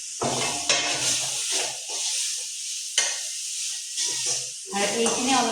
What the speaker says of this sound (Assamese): এই চপখিনি গোটেইখিনি গুড়া মছলা এতিয়া ইয়াতে ঢালি দিম